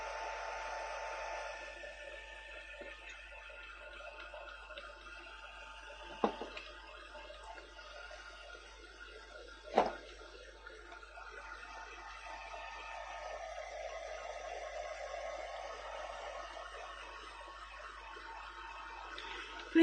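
A hair dryer blows steadily to dry a watercolour painting of foxgloves, a moderate continuous whooshing hum broken by a couple of brief thumps.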